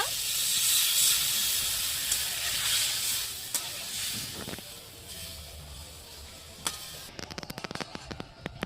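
Water goes into a pan of well-fried spice masala for a cauliflower roast, setting off a loud burst of sizzling steam that slowly fades into softer bubbling, followed by a few light stirring clicks near the end.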